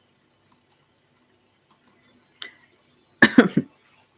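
A person coughs in a quiet room, a short burst of two or three close, loud coughs near the end, preceded by a few faint clicks and a small throat sound.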